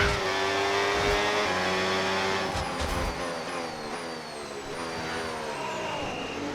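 An F1 car engine in the game F1 26 howls loudly up close, then shifts to lower choppy tones as it slows for the pits, with no talk.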